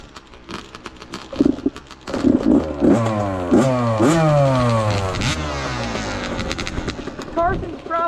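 A 2021 Yamaha YZ65 dirt bike engine revs hard and loud up close, pitch climbing and falling in repeated throttle sweeps, then settling to a rough idle with a few sharp blips near the end.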